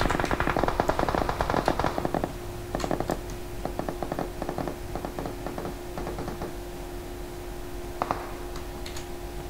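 Automatic gunfire in PUBG Mobile, dense rapid bursts in the first few seconds, then sparser shots and mechanical clicks, ending with a couple of short bursts.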